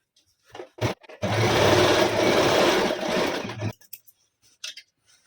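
A sewing machine stitches palazzo pants fabric in one steady, close, loud run of about two and a half seconds, with short handling clicks before and after it.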